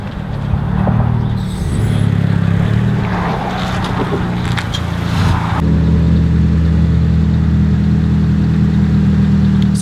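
A 2018 Ford Mustang GT V8 rumbles close by at low speed as it pulls into a shop, a loud, steady deep engine drone with a small shift in pitch partway through.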